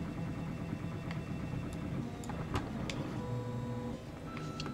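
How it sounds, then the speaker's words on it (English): A 3D printer runs during helmet design work, giving a steady mechanical hum with stepper-motor whines and occasional clicks and ticks, close and continuous. "Let me know in the comments if the 3D printer is overpoweringly loud compared to what my voice is."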